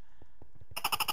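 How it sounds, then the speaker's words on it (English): A creature call from the Orespawn mod for Minecraft, resembling a pig: quiet knocks and footsteps, then four rapid bright bleating pulses in a row, loud and close, with no talk. "Sounds like a pig."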